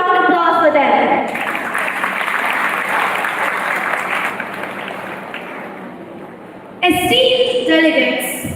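Audience at a school model G20 climate-action gathering applauding steadily to welcome the Turkey delegation, loud sustained clapping, with a voice speaking briefly at the start and end.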